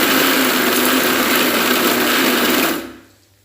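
An electric mixer grinder crushes cooked chicken for samosa filling, a loud close high-pitched motor whir with a grinding rattle that holds steady, then winds down and stops near the end.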